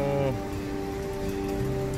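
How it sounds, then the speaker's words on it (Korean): Steady rain falls during a typhoon near Sanghyeon Station, a dense, even patter heard from close by with a low tonal hum running underneath throughout. No one speaks. "비가 와서요"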